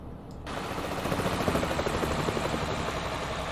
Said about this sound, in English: the helicopter's coming back!